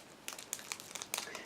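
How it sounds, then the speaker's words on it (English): Plastic bag of parts for an Ebbro 1/20 Lotus Type 91 model kit being opened, a run of close, quiet crinkles and sharp rustling snaps with no talking. "Now I'm opening next plastic bag, which is dedicated to different pipings as well as suspension elements"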